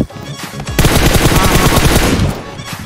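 Rapid automatic gunfire in the mobile battle-royale game PUBG Mobile rattles loud and close. A short burst comes first, then a long sustained volley, and the firing tails off near the end.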